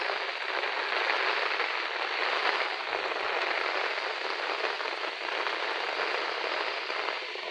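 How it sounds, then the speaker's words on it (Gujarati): Very heavy rain pours down in Keshod taluka of Junagadh district near sugarcane fields, a dense, unbroken hiss of drops that stays loud and even throughout, with no voices. "જોરદાર જોરદાર વરસાદ આટલો વરસાદ મેં મારી લાઈફમાં ક્યારેય જોયો નથી"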